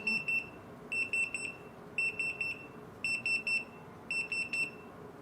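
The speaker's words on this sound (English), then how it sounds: "you can see it only has the beep, no light" A Retekess TD173 restaurant pager gives five groups of rapid high-pitched electronic beeps at a steady pace, clear and fairly close with no voices.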